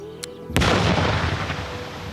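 A miniature mine detonates in one sudden, loud blast, then a dense roar and rumble of falling debris fills the rest, with no talk.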